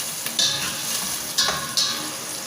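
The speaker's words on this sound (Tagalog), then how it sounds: "Isangkot siya lang natin siya guys maigi kasi mas masarap kasi yung nakasangkot siyang maigi." Tinola ingredients sautéed and stirred in a pan, a steady soft sizzle with a few sharper scraping stir strokes, heard alone without talk.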